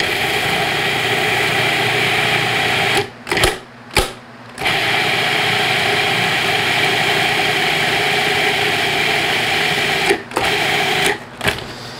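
Food processor whizzing a cauliflower pizza crust mixture with an egg, a steady loud motorized whir running throughout with two brief pauses in the middle and a couple of short stops near the end.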